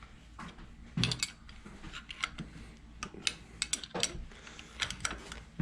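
A wrench loosens bolts on the rocker shaft of a Dodge LA 360 V8 from a 1973 Dart, giving faint, scattered metallic clicks and clinks at close range, no voices.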